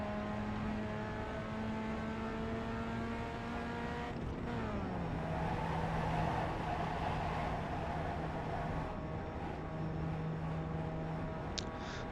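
Pontiac Solstice race car in iRacing at Lime Rock, its engine droning steadily with a clear gear change and pitch drop midway, then holding a sustained rumble for the rest of the lap, close and continuous.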